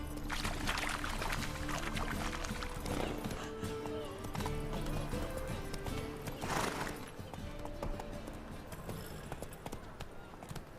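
Roach the horse gallops in The Witcher 3, hooves clip-clopping in a steady, rapid rhythm at moderate loudness over a continuous bed of game music and ambience.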